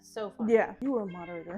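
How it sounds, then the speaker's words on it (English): A cat meows repeatedly in close, loud, drawn-out calls that run almost continuously, overlapping with people chatting. "Sorry if you heard cat meowing."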